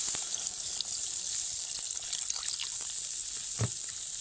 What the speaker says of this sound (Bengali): তাই সামান্য পরিমাণে জল দিয়ে দেবো